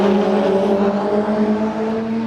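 A Honda K20-engined race car at Santa Pod drones steadily and loudly, holding a high, even pitch throughout with no voices over it.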